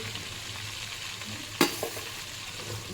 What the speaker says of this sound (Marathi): या मिरची कढीपत्ता लसूण याला व्यवस्थित शिजून द्यायची आपण